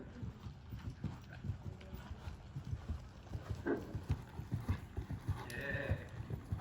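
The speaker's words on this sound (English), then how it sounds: "the horse starts to give you even better canter" Horse cantering on a 20-meter circle at a working equitation clinic, its hooves clip-clopping in a steady rhythmic beat at moderate distance, with faint background noise and no talk.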